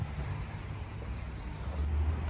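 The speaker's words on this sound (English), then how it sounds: "We'll give this engine a run up" FPT NEF 570 EVO marine diesel engine idling while hard mounted on a wooden cradle in a workshop, a steady low rumble with broadband noise that rises slightly in loudness toward the end, heard alone.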